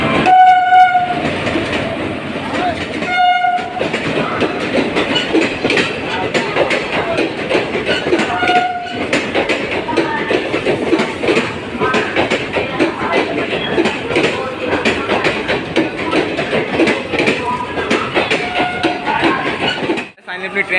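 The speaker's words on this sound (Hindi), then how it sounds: "ट्रेन आ चुकी है प्लेटफॉर्म नंबर 3 पे" A passenger train pulls in at platform 3 of a busy Indian railway station in Bihar, its horn sounding in bursts over steady rumbling and clattering wagons, with platform voices and announcements in the background.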